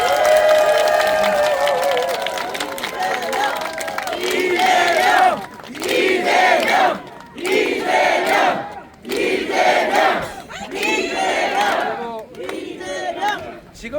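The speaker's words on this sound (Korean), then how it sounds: "우리 응원의 박수 한번 드립니다" A large outdoor rally crowd at a street speech in Jecheon roars, cheers and applauds loudly, the noise rising and falling in surging waves with rhythmic chanted shouts.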